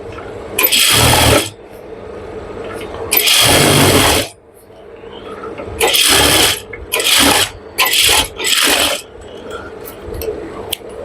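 A sewing machine stitches elastic into pajama fabric, running in several loud whirring bursts of uneven length with quiet pauses between them and quicker short runs near the end.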